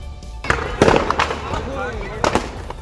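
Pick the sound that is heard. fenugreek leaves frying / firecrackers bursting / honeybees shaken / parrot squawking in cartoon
firecrackers bursting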